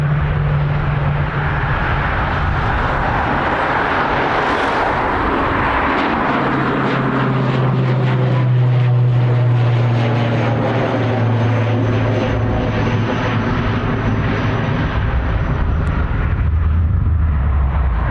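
An Antonov An-26B propeller aircraft departs Dublin Airport, its loud droning turboprop engines roaring steadily and close throughout with a shifting low throbbing tone.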